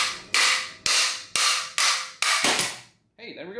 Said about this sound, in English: I'm just gonna hold it like this, using the wrench, and just tap it until it drops